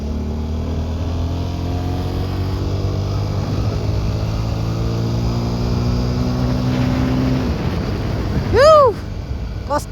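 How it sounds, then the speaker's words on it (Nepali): A TVS Apache 200 4V motorcycle riding along: a steady engine drone with rising and falling tones as it revs and shifts, heard close throughout, with a brief sharp sweep near the end. "कस्तो हुत्तिन्छ क्या यो बाइक त."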